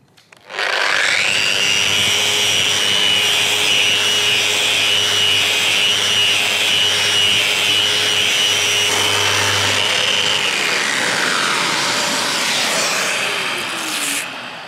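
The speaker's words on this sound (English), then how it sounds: "So our first stage is to sand in gear driven mode." A power sander in gear-driven mode at variable speed setting 5 grinds steadily across a wooden joint, a loud sustained whine that starts abruptly, holds for about ten seconds, then winds down.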